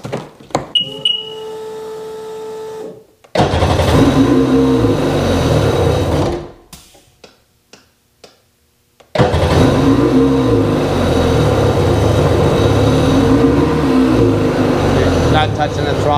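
A Sea-Doo XPDI jet ski engine revs on its own with the throttle untouched. It cuts in and out abruptly, sputtering between silent gaps before surging back into a loud, steady roar, and a brief beeping tone sounds at the start.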